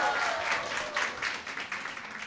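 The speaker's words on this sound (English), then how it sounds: "Huge applause for Mr." An audience at a network marketing orientation applauding, a moderate, steady patter of many hands clapping that slowly fades.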